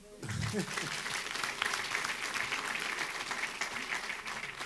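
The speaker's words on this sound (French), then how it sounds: "On peut l'applaudir, hein." An indoor audience at a political question-and-answer evening breaks into sustained applause for a newly elected official, dense clapping filling the room, with brief speech at the start.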